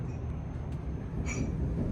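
Inside a nearly empty passenger train on a Polish railway, a continuous low rolling rumble of wheels on track with occasional faint metallic squeals and clicks, steady and close, no talk.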